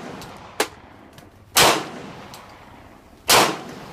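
Three pistol shots fired at a steel target on a shooting range: a sharp crack near 0.6 s, then two louder, ringing reports spaced well apart, close and clear with no talk.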